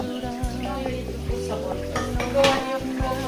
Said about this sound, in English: Ngayon, huhugas na siya ng dishes.